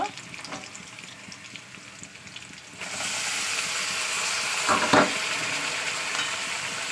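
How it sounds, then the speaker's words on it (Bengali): Meat, about 500 grams, added to hot oil with browned onion, frying and stirred: quiet crackle at first, then a louder steady sizzle from about three seconds on, with a brief utensil scrape midway. "মাংসটা দিয়ে ভালো করে নিয়ে তেলের মধ্যে নাড়াচাড়া করে নেবো। এক থেকে 2 মিনিট একটু তেলের মধ্যে কষিয়ে নেবো।"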